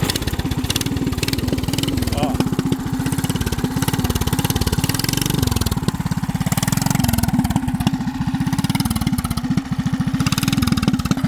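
A homemade pallet trike's small engine runs close and loud, its steady throbbing buzz rising as it is revved, with a person talking over it.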